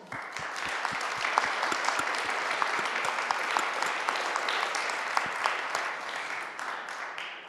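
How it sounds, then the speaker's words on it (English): A conference audience gives a sustained round of applause at a circular-cities event in Milan, dense clapping with sharp individual claps near the front, fading slightly at the end. "So first of all, a round of applause."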